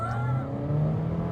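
Turbocharged engine of a 2023 Suzuki S-Cross revving in sport mode, a steady low droning hum that swells and climbs slightly in pitch, continuous and fairly loud, with no one talking.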